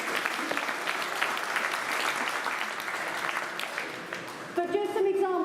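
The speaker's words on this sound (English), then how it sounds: "we'll give you guys a round of applause" A lecture audience gives a steady round of applause lasting several seconds at moderate distance, before a voice briefly starts speaking at the end.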